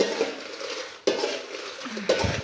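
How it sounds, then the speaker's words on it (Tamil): Red chillies roast in a pan with a little oil while a utensil stirs them continuously; soft scraping and sizzle are broken by a few sharp metallic clanks against the pan, close up and without talk. "இந்த மாதிரி கைவிடாமல் வறுத்துட்டே இருங்க"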